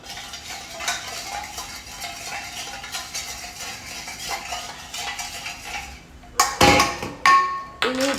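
A spoon stirs sugar into a mixture for pizza dough in a bowl, giving soft scraping swirls before several sharp, loud metallic clinks of the spoon knocking against the bowl rim.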